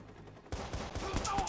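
Submachine gun fire in the video game Watch Dogs: a rapid string of sharp shots bursting out after a quiet start, fairly faint, with a voice in the background.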